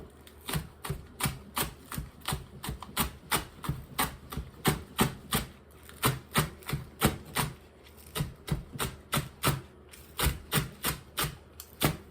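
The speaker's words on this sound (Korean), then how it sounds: "그 다음에 파 송송 썰어 넣을 거예요" Green onion being finely chopped with a knife on a cutting board, a steady run of close, crisp taps repeating rapidly across the whole stretch with only brief pauses.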